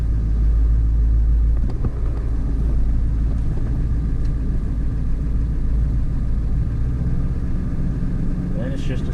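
A Ford F250 with a 7.3 Powerstroke diesel driving, a steady loud low engine rumble throughout with someone talking over it.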